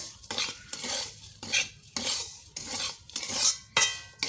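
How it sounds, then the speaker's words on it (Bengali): Metal spoon scraping and clinking against a pan while semolina pulao ingredients are stirred together, a steady series of rhythmic scraping strokes, close and fairly loud, with no talking. "আমি সমস্ত উপকরণ বেশ ভালো করে নেড়ে চেড়ে মিশিয়ে দেবো"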